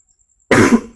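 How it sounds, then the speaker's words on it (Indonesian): After a moment of silence, one loud, close cough is followed by the start of a second. "Ya sedikit batuk."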